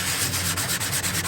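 Hand sanding of drywall in a corner, quick repeated scratchy rubbing strokes in a steady back-and-forth rhythm, close and fairly loud, with no talking.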